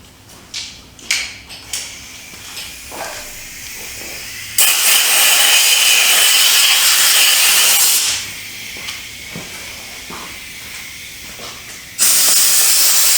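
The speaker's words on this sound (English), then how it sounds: "Let me blow some of that gas off of there." Compressed air blasts onto a Chinese CT-125 ATV motor to clear gasoline spilled from a leaking carburetor, two long loud steady hissing bursts after some small clanks and handling noises.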